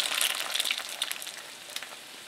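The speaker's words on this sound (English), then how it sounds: "And one more egg. Let that fry for a while." Eggs frying in a pan make a soft, crackling sizzle with scattered small pops, close by but fairly quiet, easing off slightly toward the end with no talking.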